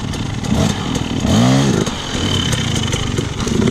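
Several dirt bikes ripping around at a birthday gathering, one engine revving hard in a rising, rasping burst before settling back to a throaty idle, loud and close.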